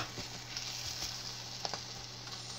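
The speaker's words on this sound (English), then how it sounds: "let this simmer just a little bit" Smothered Southern chicken simmering in a pan gives a steady, soft sizzle and bubbling hiss at low level, with faint crackles and no talking.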